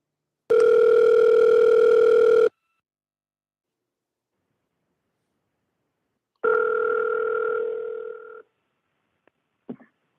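A telephone rings for a call-in show, two long electronic ring bursts separated by a pause, loud and close with no talk over them, followed by a brief click as the line picks up.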